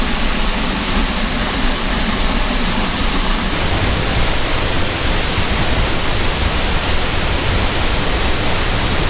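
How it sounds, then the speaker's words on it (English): A raging waterfall in flood beside the Beartooth Highway roars in a dense, loud, unbroken wash of white noise that fills the whole stretch, close and steady with no voices. "I'm trying to remember if I've ever seen the waterfall this raging before"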